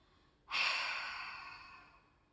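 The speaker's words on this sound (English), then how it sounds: "Hold at the top. And exhale everything out." A deep, long exhale through the nose after a held breath in a beginner yoga session, one sudden close breath that starts strong and slowly fades over about two seconds.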